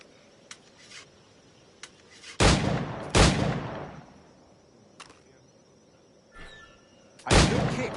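Pistol shots in Assassin's Creed Black Flag: a few sharp loud cracks with short decaying tails, spaced irregularly, alongside several fainter clicks and taps against a quiet background.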